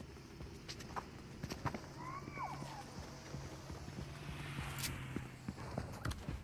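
Footsteps in the Fortnite video game patter in a quick, irregular run of soft thuds over low ambient rumble, fairly close.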